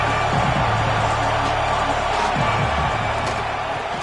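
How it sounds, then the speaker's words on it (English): Dense, steady roar of a football stadium crowd at a college game, loud and continuous throughout, with faint murmurs and cheers blended into the broad wash of noise. "This crowd ready to make its presence known."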